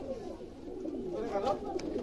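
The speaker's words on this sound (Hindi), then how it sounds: "ये गोल्डन कबूतर है दोस्तों" Golden pigeon cooing softly in a loft, a low continuous burbling coo at moderate distance with someone talking over it throughout.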